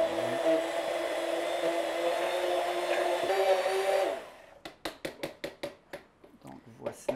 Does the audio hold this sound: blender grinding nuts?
yes